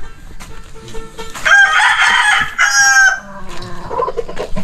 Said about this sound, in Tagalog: Yung mga manok niya.